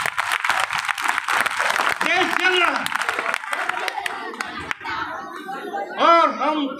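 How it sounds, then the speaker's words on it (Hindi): Loud applause and clapping from a crowd at a 26 January function, mixed with chatter, children's noise and voices talking throughout. "जोरदार तालियां"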